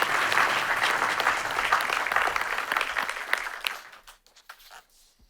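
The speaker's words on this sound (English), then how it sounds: "if I could have a round of applause" A conference audience at a security forum panel gives a round of applause as the minister leaves, a dense, moderately loud wash of clapping that thins into a few scattered claps and fades in the last second.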